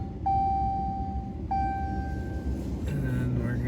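Two sustained electronic warning tones from a 2018 Ram 1500 pickup truck, each ringing for about a second, followed by a lower steady chime over a faint background hum.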